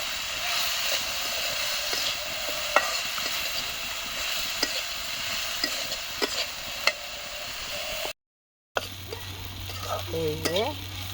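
Cauliflower fries in a pan while being stirred, with a steady crackling sizzle and occasional scraping clicks, then a brief silence before the sizzle returns and a voice is briefly heard.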